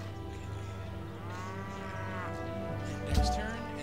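Cattle mooing in the strategy game Civilization V, a long low drawn-out moo followed by a second shorter, louder bellow near the end, with no talk.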